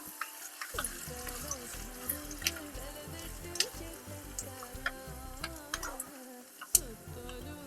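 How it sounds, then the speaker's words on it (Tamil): Raisins sizzle and crackle steadily in hot fat in a pan, with scattered ticking pops and stirring scrapes, cooked for a sweet coconut milk dessert. The frying stays close and continuous, with a short quieter gap near the end. "இப்போ எடுத்திருக்கிற திராட்சை இதில் சேர்த்துக்கலாம்."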